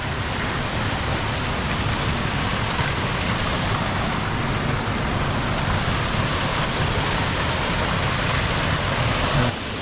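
Alder Creek Falls in Yosemite near Wawona, a steady loud broadband roar of falling water that carries on unchanged for nearly ten seconds, with no voices.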